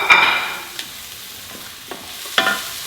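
Peppers and chilli fry in a pan with a steady sizzle, a sharp burst at the start and a few clinking stirs of a utensil scattered through, close and moderately loud with no talking.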